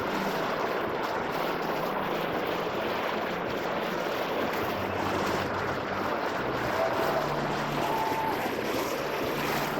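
A steady, loud rush of water pours down the black water slide at a water park and runs toward a drain. It continues unbroken throughout with a wind-like hiss and no talk.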